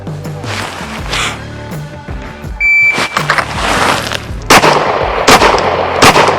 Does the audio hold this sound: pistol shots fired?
yes